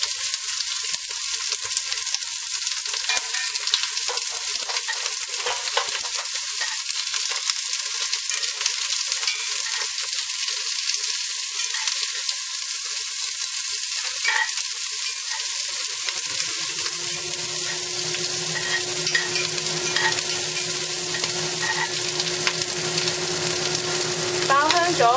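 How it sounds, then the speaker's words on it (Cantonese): Minced garlic and onion sauté in a hot pan, a loud, steady sizzle throughout. A low, even hum joins in for the last part. "爆香咗嗰啲料頭之後"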